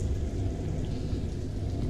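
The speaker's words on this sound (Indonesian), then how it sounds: "Oh ya, itu lagi badai." Storm with steady heavy rain and low rumbling thunder, a loud continuous wash of rainfall over deep rolling rumble throughout.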